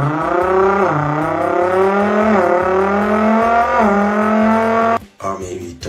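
A voice mimics the VR38 engine of a Nissan GT-R R35, a loud, buzzing drone that repeatedly climbs in pitch like revving through gears, then cuts off abruptly near the end.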